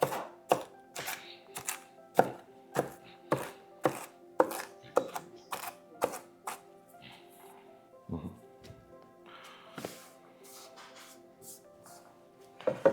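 A knife chops young celery on a board for chicken salad with vegetables, making a steady run of crisp, evenly spaced thuds up close, then a few scattered cuts later while someone speaks.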